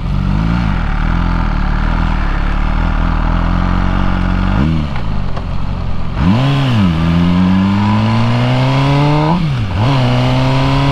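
A loud MV Agusta Brutale 1000 RR sport motorcycle engine in race mode idles roughly, then revs up several times with rising and falling pitch, close by, with no talking.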